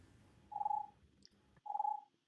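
A phone rings twice, each ring a clear, steady electronic tone about half a second long, separated by a pause, fairly faint in a quiet room.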